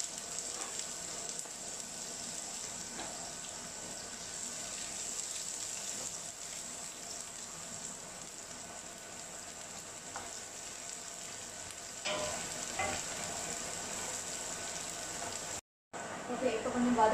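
Chopped onions sautéing in a pan for a mushroom spaghetti dish, a constant soft sizzle with occasional faint stirring scrapes, steady and moderately quiet, briefly cutting out near the end.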